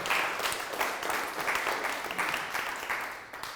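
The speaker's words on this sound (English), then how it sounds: "Big round of applause to Alex" An audience at a London Fortean Society talk on hoaxes claps for a volunteer named Alex after a magic trick, a sustained, even burst of applause from the crowd at room distance, with no one speaking over it.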